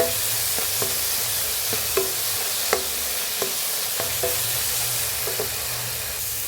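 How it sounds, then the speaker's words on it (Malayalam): Tomatoes sauté in a pan with a steady sizzle and hiss, broken by a series of sharp clicks from stirring. "നമ്മുടെ തക്കാളിക്കെല്ലാം നല്ല വൃത്തി വഴണ്ടിട്ടുണ്ട്"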